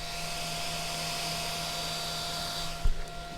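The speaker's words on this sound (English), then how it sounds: "Only thing you can hear are the fans." Cooling fans of a 3D printer whirring steadily while its axes move, a continuous airy hum with faint tonal whine, followed by a brief knock near the end.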